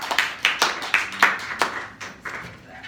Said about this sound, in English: Give yourselves a round of applause for getting through a lot of material.